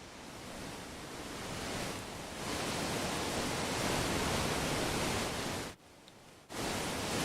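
Triple waterfall in the video game Ark: Ragnarok, a constant broadband rushing roar of falling water that stays steady and fairly loud, then drops out briefly near the end before resuming.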